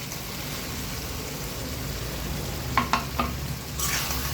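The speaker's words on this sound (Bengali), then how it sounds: "এবার আমরা বেগুন যেগুলো ভেজে নিয়েছিলাম এগুলো দিয়ে দেব।" Fried eggplant pieces are stirred into spice paste in a pan, giving a soft, steady sizzle with a few sharp scraping taps of a spoon near the end, close and without voices.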